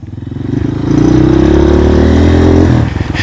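A motorcycle engine revs up loudly and close, holding a strained climbing drone for a couple of seconds before easing off as it goes up a trail.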